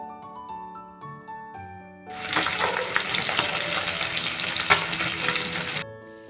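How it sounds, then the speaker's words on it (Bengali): Bata fish fry in hot oil, a dense, loud steady sizzle that starts abruptly after a quiet opening and cuts off near the end, with faint clinks as the pieces are turned; no speech. "এইভাবে উল্টে পাল্টে দুই পিঠে আমি মাছগুলোকে ভেজে ফিরে আসছি"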